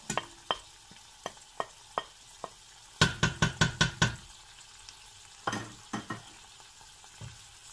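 Chicken with tomato paste and crushed garlic frying in a pan for a Moroccan chicken vermicelli dish, heard as a quiet sizzle broken by sharp spoon knocks and stirring scrapes, including a quick burst of clatter midway.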